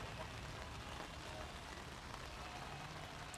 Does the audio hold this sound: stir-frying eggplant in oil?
no